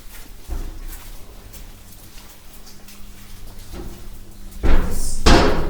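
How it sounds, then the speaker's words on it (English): Heavy door of a Soviet-era bunker in Moscow: scattered metallic knocks and clunks build to loud slamming thuds and a sustained grinding scrape as it swings open, close by. "Open door to the bunker."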